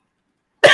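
A single sharp cough breaks the silence near the end, close and loud, during a live show.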